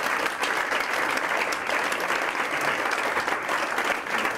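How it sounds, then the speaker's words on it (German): Audience at a business talk applauds after an interview with a hotel managing director, a dense even burst of clapping from a sizable crowd, sustained and fairly loud throughout. "Vielleicht einen kurzen Applaus."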